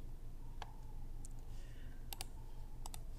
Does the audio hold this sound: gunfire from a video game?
no